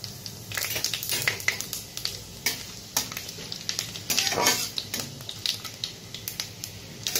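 Bay leaf, dried chili and panch phoron sizzle and crackle in hot oil, with irregular spitting pops and stirring scrapes in a pan, close and continuous, and no talking.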